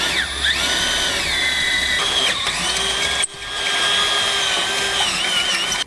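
Power drill boring out holes in a vehicle frame to half an inch, a steady high whine with pitch shifts as the bit bites, briefly pausing near three seconds before resuming, close and loud.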